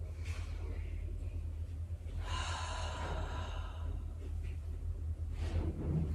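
A deep, slow inhale through the nose during a yoga breathing exercise, a soft rushing breath swelling in the middle of the clip over a steady low hum.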